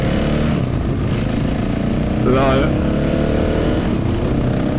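A Husqvarna 701 Supermoto motorcycle engine roars loudly and steadily close up while riding, with a brief short burst of talk partway through.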